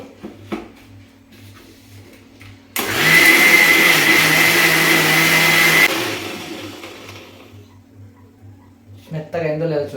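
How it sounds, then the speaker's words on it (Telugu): A kitchen mixer grinder whirs loudly for about three seconds, grinding turmeric with salt and water into a smooth paste, then stops abruptly; someone talks before and after the grinding. "మిక్సీ పట్టేసుకుందాం వీలైనంత మెత్తగా మిక్సీ పట్టుకోవాలి"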